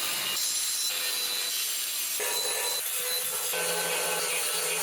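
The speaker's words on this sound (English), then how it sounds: "I'm going to measure from here to here and cut two pieces out of this treadmill frame here" Steady hand sawing through a metal treadmill frame, cutting pieces for the legs and mounting of a homemade 2x72 belt sander. The strokes are close and continuous, with no talk over them.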